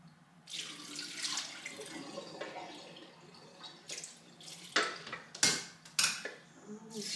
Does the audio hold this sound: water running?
yes